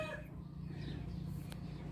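Chickens clucking faintly over a steady low hum, with a brief sharper cluck near the end.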